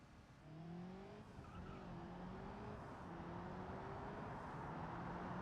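A Subaru driving fast in BeamNG: a faint, steady engine drone with rising gear-by-gear pitch and light tire noise, with no talking.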